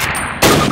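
A single sharp Springfield rifle shot fired at a target in the Call of Duty training range, loud and close, with a brief ringing tail after a quiet lead-in.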